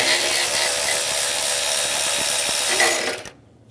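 A 12 mm socket ratchet works a bolt on the engine of a 2011-2014 Hyundai Sonata, a steady close rasp of rapid clicks running continuously for about three seconds before stopping abruptly into near silence.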